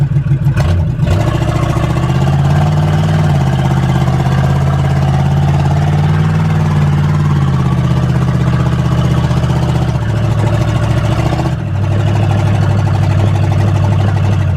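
Small engine running steadily after a cold start on a four-year-old's ride-on vehicle, a loud continuous drone with slight pitch wobble and brief dips, with no talking.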